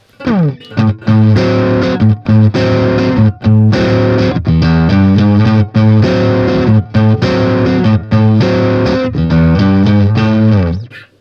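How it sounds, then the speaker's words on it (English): Crunchy, overdriven electric guitar plays a loud riff of chugging chords and bends through the dirty channel of a cheap pawn-shop amplifier, steady and close, with no voices. "I'll switch over to the dirty channel, just dialed in for a bit of crunch"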